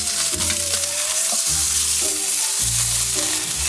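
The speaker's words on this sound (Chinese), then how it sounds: "我们只能用这电锅来煎" A tomahawk steak sizzles loudly in an electric pan as its fat renders out, a dense close crackle throughout with a tonal background beneath it.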